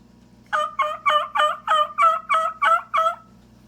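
A Quaker Boy diaphragm mouth call imitates a yelping hen turkey, nine evenly spaced, loud, close yelps in a steady rhythm against a quiet background.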